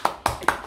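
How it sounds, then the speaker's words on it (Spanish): A few hand claps, three crisp separate slaps spaced evenly and heard close up, with no talking over them. "¡Aplaudile, aplaudile, dije!"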